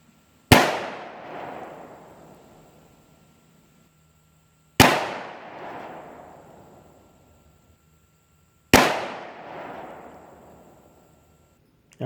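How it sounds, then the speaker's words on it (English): Three single pistol shots fired off a rest at a 50-yard target from a Smith & Wesson 627 V-Comp or Ruger Super GP100 revolver, each a sharp loud crack followed by a decaying echo, spaced about four seconds apart with no talk. "I'm shooting off a rest, but still, 50 yards is 50 yards from a pistol"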